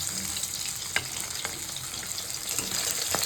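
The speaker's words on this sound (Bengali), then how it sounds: "মাছটা সুন্দর করে ভেজে নিয়েছি" Fish fries in hot oil in a pan with a continuous dense sizzle, close and fairly loud, broken by a few sharp scrapes or pops and no voices.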